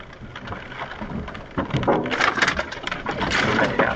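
Rain falls steadily on and around a vehicle parked on a West Branch route, a dense hiss that grows louder halfway through with scattered pattering drops.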